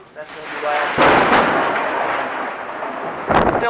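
A loud, close thunderclap bursts and rumbles on for a few seconds, followed by a second sharp crack near the end.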